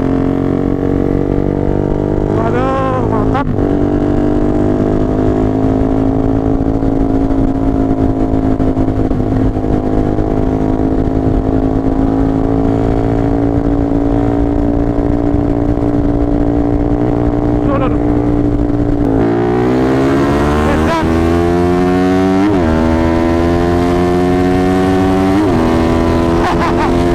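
Suzuki Satria two-stroke motorcycle fitted with a 240cc two-cylinder engine, revving loudly and steadily with rising and falling pitch sweeps, then climbing through gears near the end, with voices talking over it.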